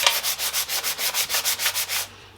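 Hand sanding the glossy lacquer finish on a tea trolley with 220-grit sandpaper, about a dozen even back-and-forth rasping strokes in a steady rhythm, close and clear, ending abruptly, with no voices.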